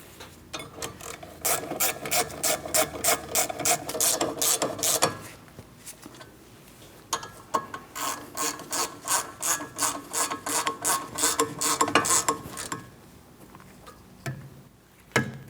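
Ratchet snugging the rear brake caliper bracket bolts on a 2004-2008 Pontiac Grand Prix, a fast run of close, loud clicks in two long bursts separated by a short pause, with no talk.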